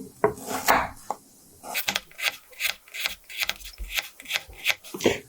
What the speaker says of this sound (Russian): Дальше лук режем полукольцами.